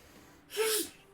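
A single sharp sneeze bursts out of near silence, loud and close, with a quick breathy intake leading into it.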